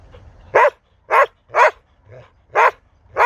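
Close, loud dog barks in a steady series of about five, with a softer yelp slipped in between.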